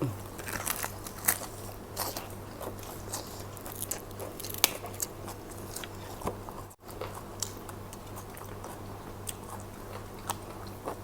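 Crunchy dried food snaps and crackles as it is bitten and chewed close up, with a quick, irregular run of sharp crunches throughout and no talking.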